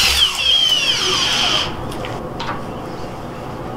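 A Flex Turbo FX1271T hammer drill runs loud and close in speed 2 turbo mode, a high whining roar with a falling pitch that cuts off after about a second and a half, leaving faint knocks and a quieter room.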